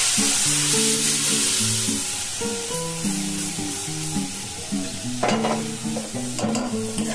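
Lentils sizzle in hot oil with asafoetida, a loud steady frying hiss heard close up, with a burst of sharper crackling near the end and a tonal background hum throughout.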